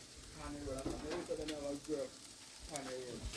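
Chicken and pork sizzle on a coal grill with a steady, crackling fry throughout. Muffled voices murmur faintly in the background.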